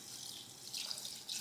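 A kitchen tap runs steadily while rajma beans are washed, a soft continuous hiss of flowing water, close and fairly quiet, with no talking.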